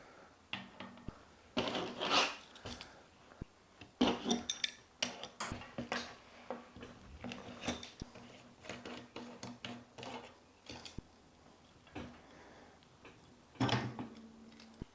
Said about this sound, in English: Next, we need to remove the cassette from the wheel.